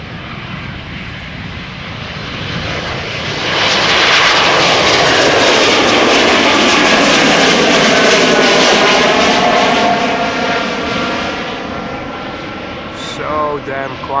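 A Ryanair Boeing 737 departing Amsterdam Schiphol roars past, swelling to a loud, broad rumble with a sweeping tone, then slowly fading into the distance.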